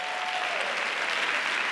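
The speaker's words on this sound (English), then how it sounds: "give yourselves a round of applause." Steady applause from a school convocation audience fills the whole moment, dense and even, with a faint crowd murmur.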